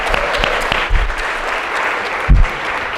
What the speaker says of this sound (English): So I want to clap him up.